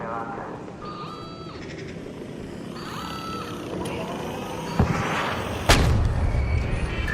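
A sticky grenade goes off in the sci-fi shooter ARC Raiders, two sharp booming blasts late in a busy game soundscape of whines and electronic tones, with voices talking over it.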